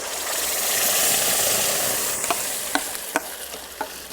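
Ground stinging nettle (kandali) paste hits hot oil in a pan, giving a strong steady sizzle and hiss, then a few sharp clinks of a stirring spoon against the pan.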